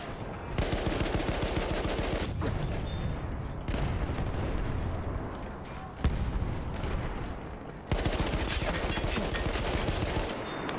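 Battlefield 1 multiplayer gunfire: dense, continuous automatic shooting close up, with sustained bursts broken by brief pauses and mixed with booming explosions, lasting throughout.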